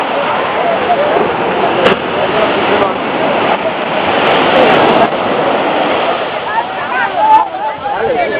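Sea waves wash in on Puri beach as fishermen haul a net, giving a steady, loud rush of surf and splashing water throughout, with voices faintly mixed in.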